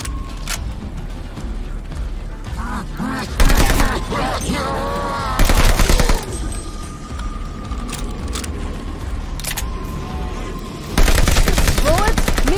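Gunfire in the Call of Duty Vanguard video game: bursts of loud, close automatic fire in several volleys with rapid crackling shots between, separated by quieter stretches of mechanical background noise.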